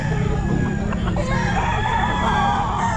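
A golden boy stag rooster crows at the Grotto pet market, its loud, drawn-out call sitting within a dense, continuous wash of other fowl clucking and market noise close by.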